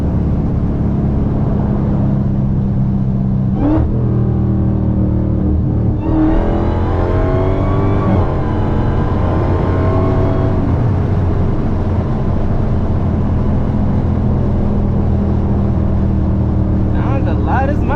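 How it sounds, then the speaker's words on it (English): A Dodge Challenger Hellcat Redeye engine revs hard, its whining supercharged intake rising and falling in a loud, steady drone, with short blips near the start and end and someone talking over the noise. "Y'all can hear the intake say, like, only red eyes make that sound."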